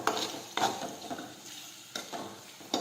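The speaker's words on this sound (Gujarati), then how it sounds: "હવે આપણે જીરું નાખીશું, ફરી પાછું આપણે સાતળી લઈશું" Cumin seeds sauté in a pan for okra curry, with a spoon scraping and stirring in repeated strokes over a faint sizzle, close by with no voices.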